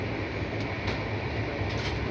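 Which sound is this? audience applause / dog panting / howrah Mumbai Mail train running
howrah Mumbai Mail train running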